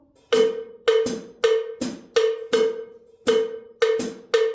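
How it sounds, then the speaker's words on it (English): A bright cowbell-like tone strikes in a repeating syncopated son clave pattern for guaguancó in 4/4, sharp attacks with short decays, steady and alone. "You can hear that son clave in there, right?"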